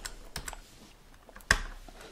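Computer keyboard keys click in a few sparse, quiet taps followed by one sharper, louder keystroke, close up, with no talking.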